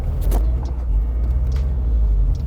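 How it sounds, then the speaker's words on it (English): Car braking and turning through a pendulum turn, a loud steady engine and road rumble from inside the vehicle with faint higher tire or wind noise passing over it. "we'll be straight line braking, turning in, trailing out, turning back, and then maybe a second little bit of brake"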